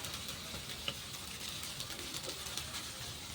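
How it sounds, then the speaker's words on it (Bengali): Ginger, garlic and green chili frying over medium heat for mutton keema, with a steady soft sizzle and a few faint utensil ticks throughout, quiet and even with no speech. "আমি এখানে আদা রসুন কাঁচা লঙ্কাটাও 1 মিনিট মতো ভেজে নিয়েছি।"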